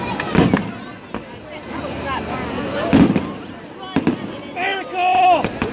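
Fourth of July fireworks, with sharp bangs and crackling bursts going off at irregular intervals, fairly close, while people talk and chatter nearby.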